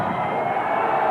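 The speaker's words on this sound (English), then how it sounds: "Oh, in tremendous form, aren't they, the crowd?" A cricket stadium crowd cheers loudly and steadily at a Pakistan v New Zealand semi-final in Sharjah, a dense roar of many voices with no break.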